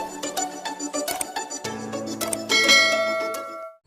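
Bright notification bell chimes ring out in a quick run of metallic dings, then a sustained ringing tone that lingers and fades near the end, clear and up front with no talking.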